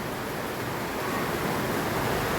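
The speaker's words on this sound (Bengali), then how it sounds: "সব একসাথে মিক্সিতে পেস্ট করে নেব" Mixer grinder blending corn kernels with half a cup of water into paste, a dense steady whirring roar without pause.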